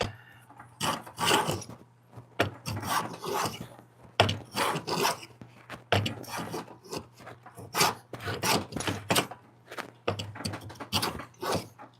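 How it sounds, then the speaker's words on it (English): Wood is hand planed on a workbench for a box, each pass a close, airy rasping shave, repeated in irregular bursts with short gaps and a low steady hum underneath, no voices. "I know the table is because I'm hand planing"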